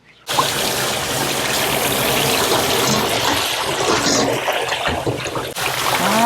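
Cold water gushes and splashes steadily while blanched fatsia shoots (dureup) are rinsed to keep them green, a continuous close running-water rush with some trickling.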